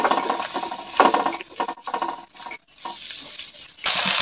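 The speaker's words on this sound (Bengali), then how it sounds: "ঠাকুমার ধনিয়া বাটা দেওয়া হয়ে গেছে, একটু ভালো করে নেড়ে নিচ্ছে" Close, steady stirring and patting of a chicken pakora mix with coriander paste, done by hand by a grandmother, with a wet, gritty texture and small clicks against the bowl.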